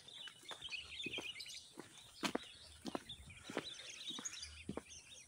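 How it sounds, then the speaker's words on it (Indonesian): Many birds chirp and call along a mountain trail on Gunung Telomoyo past farm fields, a dense continuous chorus of tweets with sharper calls and a few knocks or thumps, at moderate distance. "Burung-burung juga cukup banyak di sini."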